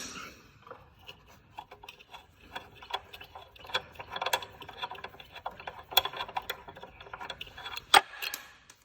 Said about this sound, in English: Just take your wrench, undo it.